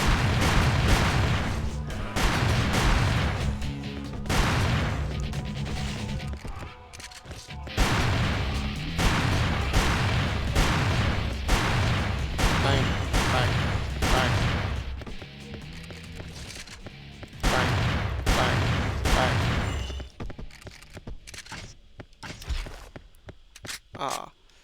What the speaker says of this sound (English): I'll bust out the shotgun.